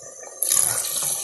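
Water poured into a pot for vegetable biryani, a steady splashing pour that begins abruptly and keeps flowing evenly at close range.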